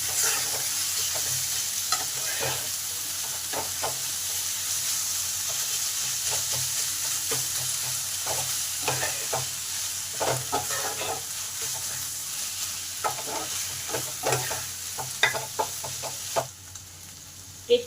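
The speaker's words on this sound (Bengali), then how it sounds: "মাছটা খুব ভালো করে সাথে মিশিয়ে নিলাম" Steady sizzling of fish frying in hot oil, with repeated scraping and clinking of a utensil stirring the pan, loud and close throughout.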